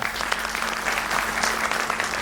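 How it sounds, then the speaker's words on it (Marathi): Audience applause for a speaker at an inspirational speech event, steady dense clapping from a crowd throughout, with no talk over it. "त्यांच्यासाठी एकदा जोरदार टाळ्या."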